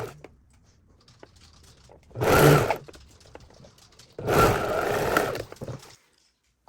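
A sewing machine stitches the lining of tailored trousers in two short bursts of whirring, the second longer, with quiet pauses between.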